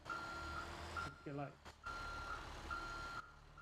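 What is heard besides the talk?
truck reversing beeps while backing up, from a video game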